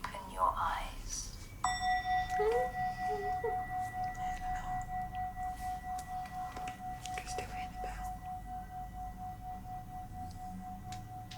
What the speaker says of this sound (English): In a moment, the bell will ring, and when you cannot hear it anymore, you can open your eyes.